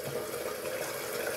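Water from a tap runs steadily for a moment as a shaving brush is wetted for lathering, a soft continuous splash heard alone at close range.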